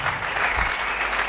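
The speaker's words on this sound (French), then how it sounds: "Acclamons très fort." A church congregation claps loudly and steadily at a French-language sermon, a dense, continuous burst of applause filling the whole moment.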